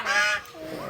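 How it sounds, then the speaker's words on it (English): An African pied crow gives one harsh, loud, honking caw up close, followed by a lower trailing sound, among other captive birds such as parrots and macaws. "The African pied crow."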